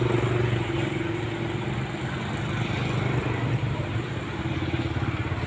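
An iron barge for hauling sand comes in on the Ô Môn river in early morning, its engine a steady low throbbing drone with mechanical clatter, fairly close and continuous throughout.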